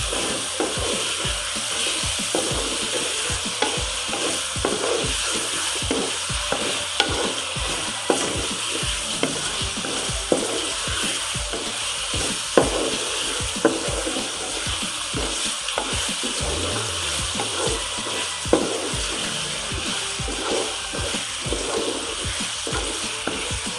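Chicken frying in a pan with ginger-garlic paste for an aloo chicken curry, a continuous loud sizzle with rhythmic scraping and stirring strokes throughout.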